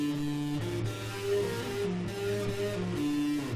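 A short guitar phrase with string bends on G, the notes swelling and gliding in pitch over a steady ringing tone, with no one talking.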